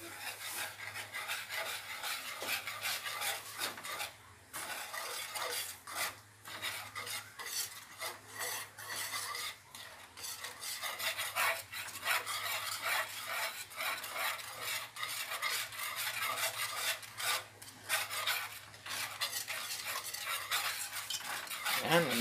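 Corn flour and sugar batter is stirred in a bowl with a utensil, making a continuous close scraping and rubbing with rhythmic strokes throughout, fairly loud and without talk.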